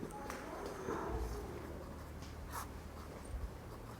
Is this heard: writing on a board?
yes